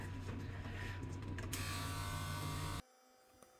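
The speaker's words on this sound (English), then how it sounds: "Right, so I'm going to shave here." Electric clippers buzz steadily and close while shaving fur on a diabetic Cavalier King Charles Spaniel at home, a loud continuous hum that cuts off abruptly near the end.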